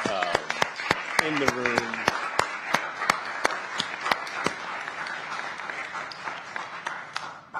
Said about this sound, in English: Can we just have a round of applause for the publishers who are here